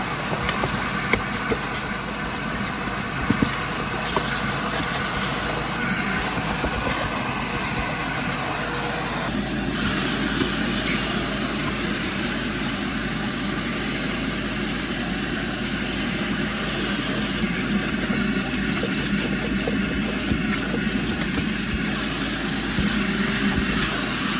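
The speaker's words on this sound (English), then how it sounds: "Then I'll go in with the vacuum." A vacuum cleaner works on the interior of a filthy car during detailing, giving a steady, loud droning whine that holds for the whole stretch and shifts in tone about midway as the nozzle moves.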